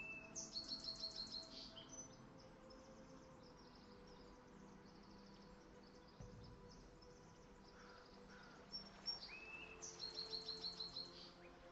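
Birds give faint, repeated rapid chirping trills in a quiet outdoor setting, with a few clusters of calls at the start and again near the end over a soft background hum.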